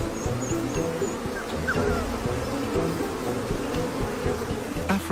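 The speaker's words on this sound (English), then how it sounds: "A swarm of angry bees isn't the best lullaby for a tired wild dog." A swarm of angry African honeybees buzzes loudly and continuously at close range, a dense droning hum with individual bees whining past, outdoors in the African bush.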